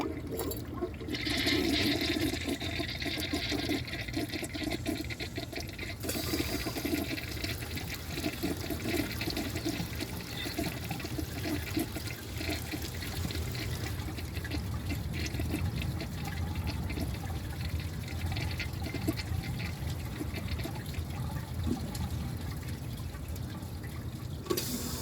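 A 1994 Kohler Wellworth Lite toilet flushes during a clogged siphon jet test, a long rushing, gurgling water roar that swells early and keeps running as the tank refills, with no voices.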